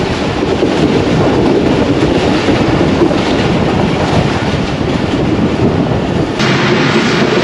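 The Jaffar Express rolls along a single-line track from Lahore, a loud, steady rumble of wheels and carriages with rhythmic clatter, heard close from on board throughout with no voices.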